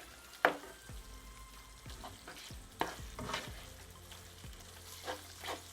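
Ground beef taco filling with Worcestershire sauce is stirred in a pan, a soft sizzle broken by several scraping spoon strokes at irregular intervals, close and quiet with no talking.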